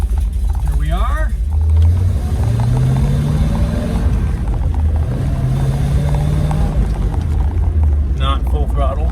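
A small block Chevy engine fitted with a one-barrel carburetor runs after a cold start with some choke, giving a loud, steady rumble that rises and falls as the revs change.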